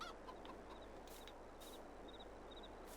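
Cockerel in Farming Simulator 22 giving a few faint, short clucks over a low steady background hum, with scattered brief squawks spaced across a few seconds.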